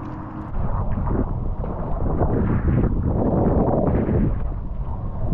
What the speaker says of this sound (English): The wind is really picking up now in the afternoon